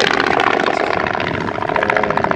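A propeller aircraft roars loud and close overhead during a flying display at the Mielec air show, its engine drone steady and dense throughout.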